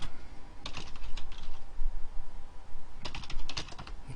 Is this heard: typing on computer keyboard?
yes